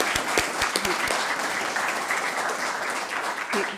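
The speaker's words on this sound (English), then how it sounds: "So just a round of applause for John Lavoie." Audience applause at a vocational trade jobs breakfast forum, a steady wash of many hands clapping at moderate distance, a few close claps standing out early, sustained for several seconds without speech.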